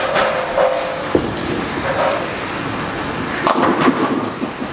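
A Brunswick Ultimate Defender bowling ball rolls down the lane with a loud continuous rumble, ending in a sharp clatter as it strikes the pins, in a bowling alley.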